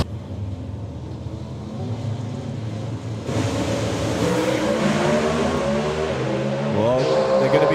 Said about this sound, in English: They run 500 cubic inch, which is nearly 8 litres of V8 engine under the hood with carburetors, racing gasoline, stock size tyres